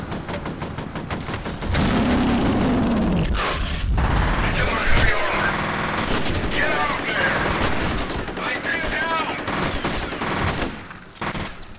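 Enemy shotgun fire in the F.E.A.R. shooter game, dense rapid blasts running almost without pause for over ten seconds, loud and close, with a voice talking over the battle.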